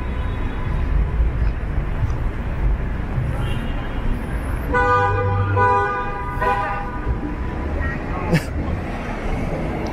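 A car horn sounds at pedestrians on a busy downtown street near the financial district during Caribana crowds, one sustained honk over steady traffic noise, with someone talking throughout.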